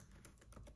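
Keys clatter on a 2009 MacBook keyboard as a terminal command is typed, a quick run of faint, close clicks with no talking.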